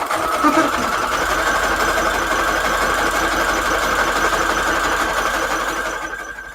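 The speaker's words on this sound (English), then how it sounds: "We're just going to keep sewing stuff on top of stuff until we run out of stuff." A sewing machine stitches through stacked layers of fabric for a Christmas flip-out book page, running as one loud, continuous whirring motor drone from start to finish.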